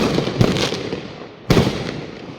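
Fireworks set off on New Year's Eve pop and burst twice, each sharp crack followed by a crackling fizz fading into a continuous background of distant explosions.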